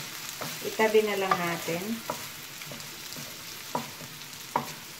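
Carrots for a chicken stir fry sizzle in a pan, with a steady frying hiss and periodic scrapes and taps of stirring, while someone talks briefly over it.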